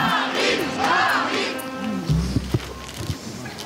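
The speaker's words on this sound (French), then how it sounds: "c'est un autre nom que la foule acclame" Crowd packed into a French town hall square at a Front National political rally, cheering and acclaiming in a loud, dense roar, with a few sharp shouts and bursts near the end.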